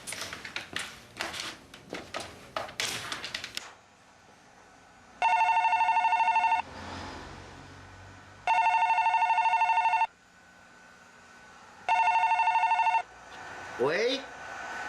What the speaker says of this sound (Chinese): 迄火龙伯啊，规暝电话要找你啦，叫伊也拨一下电话啦